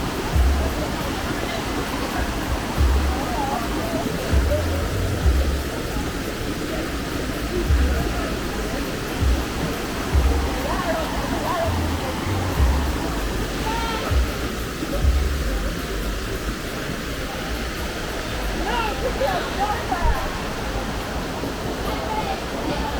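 Shallow, clear St. Toolis River water flowing steadily near Toll Gate, a continuous broadband rush with low rumbling, while people talk faintly in the background throughout.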